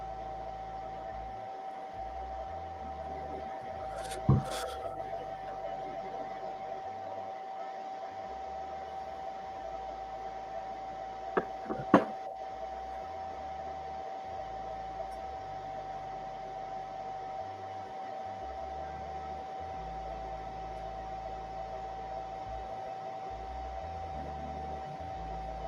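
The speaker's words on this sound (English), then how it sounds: "Heating up the neck with my blow dryer so I can pop it." A blow dryer runs at a steady close hum and hiss while heating the neck joint of an action figure, with a couple of brief clicks and knocks over the continuous airflow.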